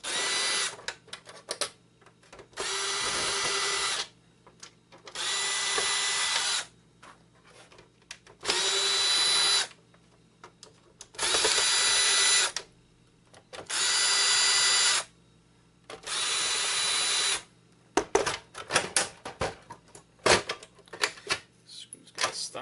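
A power screwdriver drives out the screws on a PlayStation 3 console in short, loud bursts, about six of them separated by brief pauses, followed by clicks and handling noise as screws come loose.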